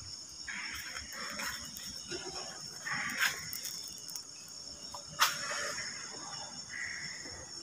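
Frogs croak at night outside a garage, a steady high trilling chorus that continues through the whole stretch, with a few brief louder chirps standing out and no talking.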